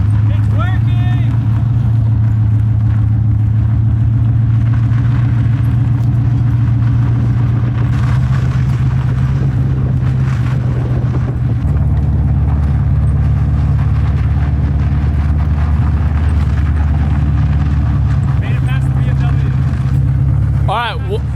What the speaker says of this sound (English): first drive in the 240, here we go.